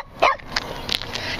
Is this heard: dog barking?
yes